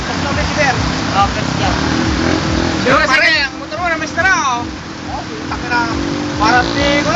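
Motocross motorcycle engines roar and rise in pitch at a race in San Pablo, a steady loud rumble with revving bursts, heard under excited voices talking and shouting throughout.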